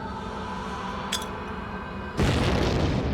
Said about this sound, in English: The explosion is the last action of one Taliban fighter's life.